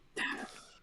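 A single short cough or throat-clear from one person, quiet and brief, lasting well under a second.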